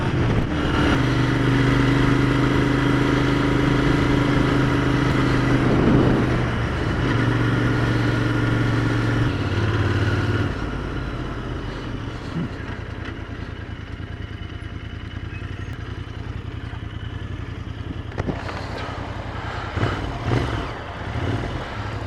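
A 2019 Royal Enfield Interceptor 650 motorcycle rides along with a steady engine drone and wind, its pitch shifting as revs change, then settling into a lower, quieter cruise with passing traffic sounds.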